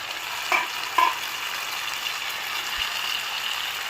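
Tomato, chillies and curry leaves fry in a pan with a steady hiss, broken by a couple of sharp spoon knocks early on as the mix is stirred.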